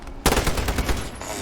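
A burst of rapid automatic gunfire from a shooter video game, loud and close, with quick repeated shots running on for about a second after a sharp start.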